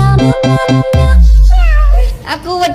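A sung, music-backed voice imitates a cat with a run of short, bright meow-like syllables followed by a longer drawn-out call, loud and close.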